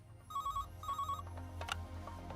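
A telephone rings in a Bollywood film: two clear electronic ring bursts, close and fairly loud, over a low background hum, then the ringing stops.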